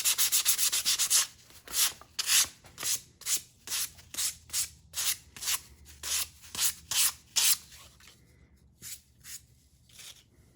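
A shaped surface is sanded smooth by hand with fine-grit sandpaper. About fifteen close, rhythmic rubbing strokes follow one another evenly, then taper off into a few lighter passes near the end.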